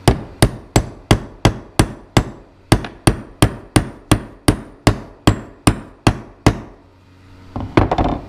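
A hammer taps a socket into place on a Kubota L48 hydraulic swing pump during a reseal, with about sixteen sharp, evenly spaced metallic knocks close up, then a pause and a couple of final light taps.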